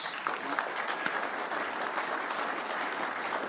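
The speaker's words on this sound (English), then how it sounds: "A round of applause." Steady applause from an audience at an agricultural innovation awards evening, a dense, even clatter of clapping hands filling the room for several seconds with no voices over it.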